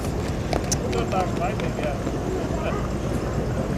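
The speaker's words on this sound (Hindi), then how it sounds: "बड़े ही प्यारे तरीके से आके स्टेशन पे घोड़ा भगा रहे हैं" A horse cart pulls up at a railway station on the Rawalpindi–Kohat line, hooves clip-clopping at a steady trot amid loud station bustle, with someone talking over it.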